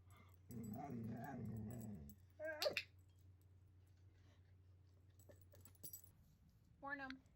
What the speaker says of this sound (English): she has decided that the one time she will be vocal is to a lint roller